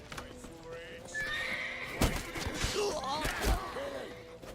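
A horse in The Witcher 3: Wild Hunt video game whinnies several times with rising and falling cries, mixed with hoof clatter and a busy, action-filled background.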